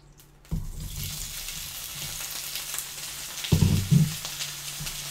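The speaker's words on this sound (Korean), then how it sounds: "식용유를 한 스푼 두르고, 채소를 강한 불로 또 1분간 볶아주래" Vegetables hit hot oil in a pan over high heat, bursting into a steady close sizzle with a louder crackling flare partway through as they are stirred.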